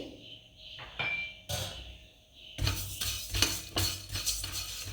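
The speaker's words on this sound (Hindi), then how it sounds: "1 टेबल स्पून मिलन सीड, इसको भी हम भून लेंगे" About a tablespoon of melon seeds is dry-roasted in a pan for Rajasthani methi laddus, with metallic clinks and scrapes of a spoon on the pan, then a busy, rattling sizzle of seeds being stirred up close.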